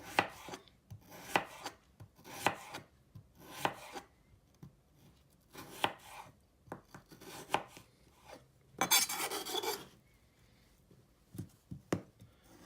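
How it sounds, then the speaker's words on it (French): A knife chops potato pieces on a cutting board in a home kitchen, crisp, close, irregular knocks repeating every second or so, with a brief scraping burst midway. "donc là on découpe un morceau, toujours pareil."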